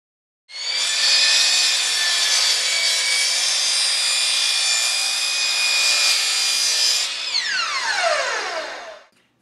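A wooden board is cut in half with a power saw, one loud, steady, high whine for about seven seconds, then the pitch drops quickly as the blade spins down, close and with no talking.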